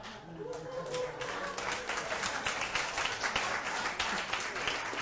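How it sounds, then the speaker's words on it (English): Applause from an audience at a magic show fills the room, steady broadband clapping with a voice speaking faintly over it at the start. "thank you for your leadership on the applause there"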